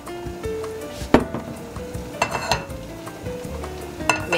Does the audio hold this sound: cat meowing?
no